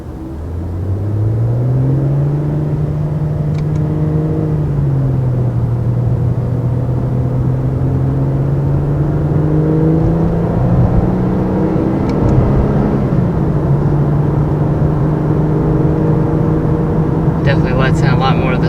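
A 2019 Infiniti Q50 Red Sport 400 drives along with a steady, droning engine and exhaust hum from inside the cabin, the pitch rising and easing slightly as the car holds speed, loud and continuous throughout.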